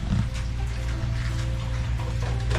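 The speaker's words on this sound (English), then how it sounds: "Rainy days on Thai Farm." Steady rain falls on a farm in Thailand, a continuous wash of drops with a low rumble beneath, close and moderately loud with no talking.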